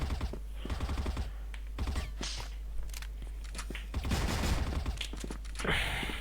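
Rapid bursts of gunfire in a shooting video game, repeated close volleys over a steady low hum, with brief gaps between the strings of shots.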